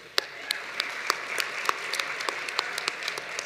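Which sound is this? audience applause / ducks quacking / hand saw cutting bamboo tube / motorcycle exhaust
audience applause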